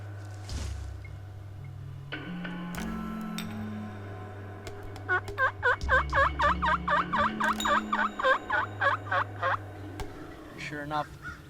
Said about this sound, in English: the toms come in just running and gobbling at the same time when they're running